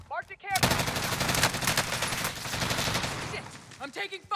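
Rapid automatic gunfire from the video game Warzone bursts in loud and sustained for about three seconds, then trails off into a few scattered shots, with brief voice sounds at the start and end.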